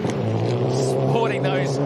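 A Citroen front-wheel drive rally car with a sequential gearbox drives a stage, its engine droning steadily at close range and rising in pitch, while a voice talks over it.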